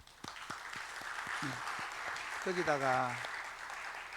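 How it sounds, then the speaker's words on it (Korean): A congregation at a Friday worship meeting claps in applause, starting with a few separate claps that swell into steady clapping, while a voice speaks and sings over it. "여러분들 수고 많았다고 우리가 박수 쳐주겠습니다"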